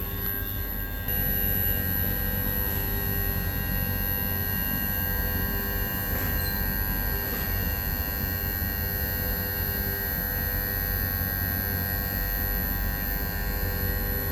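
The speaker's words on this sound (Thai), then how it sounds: "อันนี้แอร์หมื่นสอง BTU อยู่" A Daikin 12000 BTU split air conditioner runs at its highest fan speed, giving a steady, unbroken mechanical hum with a constant airflow drone. The sound stays close and even throughout, with no talking.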